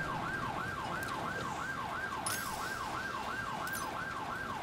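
Police sirens in the video game Alan Wake 2 wail in a steady, rapidly repeating up-and-down pattern, loud and continuous with no talking.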